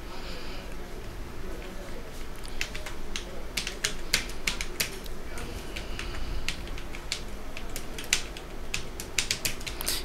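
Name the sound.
typing text on a computer keyboard in Notepad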